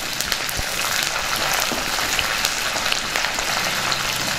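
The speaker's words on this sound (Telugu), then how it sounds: "పోపు దినుసులు బాగా వేగాయి ఇప్పుడు పచ్చిమిర్చి వేసుకుందాం ఇప్పుడు కరివేపాకు కూడా వేసుకుందాం" Green chillies and curry leaves crackle in hot oil with tempering spices, a dense, even spatter of pops and hiss close by.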